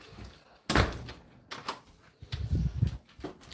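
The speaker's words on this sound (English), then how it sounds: "Close this door." A door swinging shut at a work site with a cart nearby, a sharp loud thump up close followed by a few lighter knocks and clatter.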